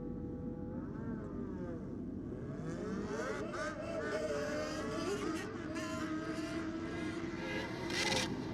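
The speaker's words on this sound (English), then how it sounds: "neither bike sounding particularly happy down there" Drag racing motorcycles launching down the strip at a bike night event, engines rising in pitch as they pull away, loud and continuous with a crowd-like roar beneath and a commentator speaking over it.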